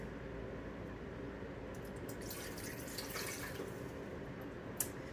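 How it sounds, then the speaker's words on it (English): Warm water runs into a bread machine pan in a steady, soft pouring wash, close and continuous, with a brief clink near the end. "to this I'm going to add in 1 1/4 cup of warm water"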